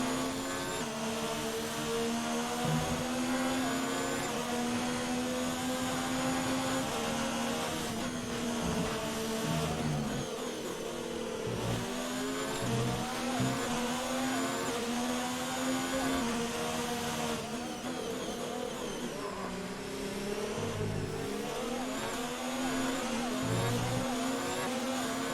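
A Formula 1 race car engine from F1 2019 on a Ferrari at Japan screams steadily at high revs, with pitch rising and dipping through gear changes and a brief lift, loud and continuous.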